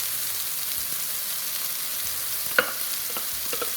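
Cherry sauce made with butter goes back into a hot pan and sizzles softly, a steady low frying hiss with a few sharp pops and spits near the end.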